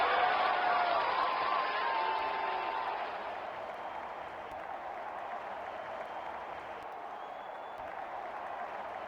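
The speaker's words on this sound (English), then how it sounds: "Crowd senses a flurry of boundary here. They are making some serious noise." A crowd at a cricket match cheers and applauds a batting shot, a dense, steady roar of clapping and shouting that eases slightly after the first seconds and carries on at a constant level.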